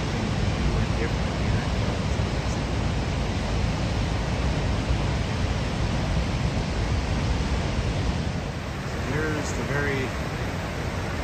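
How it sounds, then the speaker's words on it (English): The Yellowstone River rushes over the top of a waterfall in a steady, broadband roar that is loud and close and never lets up. A voice speaks briefly near the end. "Top of the waterfall just before it goes down to the falls."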